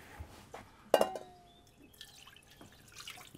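Lukewarm water is poured for soft bun dough with root vegetables, producing a short splash and trickle into a bowl, followed by quiet kitchen clinks.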